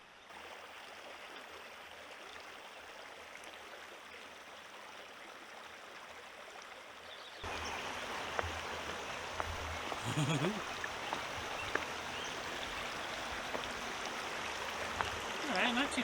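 A mountain creek near a cabin flows with a steady, broad rushing wash, growing noticeably louder and closer halfway through, with no voices over it.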